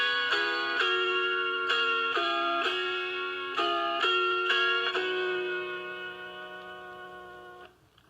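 An autoharp plucks the Red River Valley melody, a string of clear ringing notes in a steady rhythm that ends on a longer held tone, close and alone.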